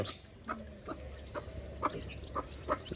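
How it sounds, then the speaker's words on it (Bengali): Native laying hens clucking in a farmyard, a series of short, moderately loud clucks repeating roughly every half second over steady low background noise, with no talking. "এগুলো হচ্ছে ডিম্পার মুরগি"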